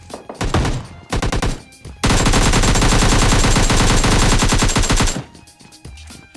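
Loud automatic gunfire in a solo-versus-duo battle royale video game, two short rattling bursts followed by a long sustained stream of rapid shots, close and dominant.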